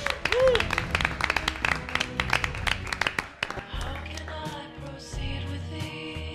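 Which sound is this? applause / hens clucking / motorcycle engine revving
applause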